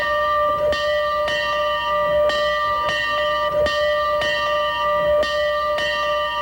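The large Monon Bell, the Wabash–DePauw college football trophy, rings repeatedly at a steady pace, each clang bright and resonant, sustaining into the next strike.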